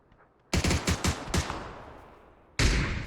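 Gunfire in the video game PUBG: a loud, rapid burst of automatic shots that rings out and decays, followed by another sharp volley at the end, with no talk over it.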